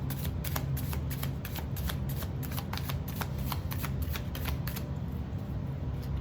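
A tarot card deck is riffle-shuffled repeatedly, giving quick crisp bursts of flapping cards close up over a soft background hum.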